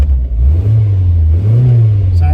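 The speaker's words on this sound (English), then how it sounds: "I want the temperature to get up and the fan to kick in just so that the engine's had a bit of a run through" A Rover 45 car engine runs and warms up with a cracked exhaust manifold, a loud, close, low droning hum that swells gently in pitch twice, with a voice over it.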